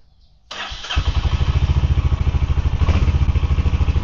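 After a brief quiet moment, a motorcycle engine cranks and catches, then settles into a loud, close, rhythmic idle that keeps chugging.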